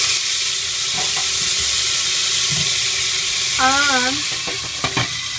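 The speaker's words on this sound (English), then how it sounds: "we are going to fry our potatoes" Washed potatoes frying in a pan give a steady broadband sizzle throughout, with a few faint knocks and a brief squeaky scrape near the end; a single spoken word is barely audible over it.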